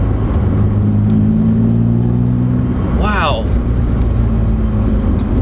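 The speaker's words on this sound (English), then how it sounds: "I hear more engine sound." A BMW E36 M3 with an aFe intake runs at a steady low drone, and a brief rising rev flares around the three-second mark. A voice is heard over the engine.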